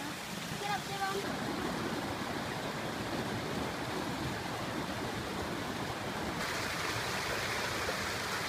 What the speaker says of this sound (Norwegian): Å, lille fossen!